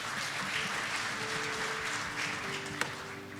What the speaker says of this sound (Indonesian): Boleh beri tepuk tangan buat Allah kita dulu.